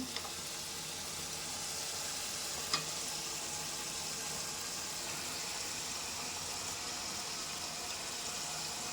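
Chicken pieces for a Tamil chicken kulambu sizzle in hot oil, a steady broad frying hiss throughout, with one brief clink near the start of the middle.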